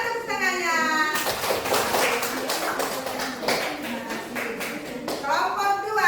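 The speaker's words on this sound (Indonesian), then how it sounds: "Mana tepuk tangannya?" Classroom clapping for a student group's presentation, a burst of quick hand claps from several children that swells and fades, with a speaking voice before and after and some tapping mixed in.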